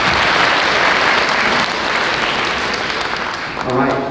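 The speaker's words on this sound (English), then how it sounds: "Let's give her a round of applause." An audience applauds at a school band concert, dense steady clapping filling the room and fading slightly toward the end, where a voice begins speaking.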